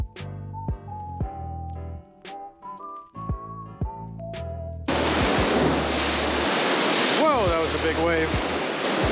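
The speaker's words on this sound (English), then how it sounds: "Big wave." Ocean waves crash against a pier wall in the rain, a loud, sudden roaring wash of surf that arrives after some musical tones and then keeps going, with a voice calling out over it.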